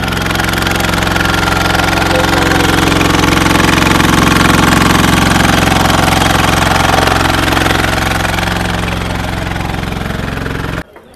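A Cooper engine drives a pump at a Kisan agricultural exhibition in Moshi, Pune, running steadily and loudly with a continuous mechanical hum throughout, until it cuts off abruptly at the very end.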